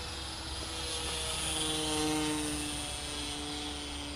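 A Harbor Freight P-51 Mustang RC model plane flies overhead in breezy conditions, its steady propeller drone holding at moderate distance and swelling slightly midway before easing off again, with no voices.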